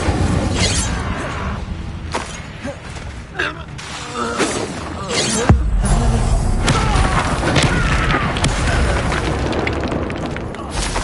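Incendio fire spells cast in the Hogwarts Legacy video game burst out as repeated booming, crackling impacts amid game effects and music, with spoken spell words mixed in throughout.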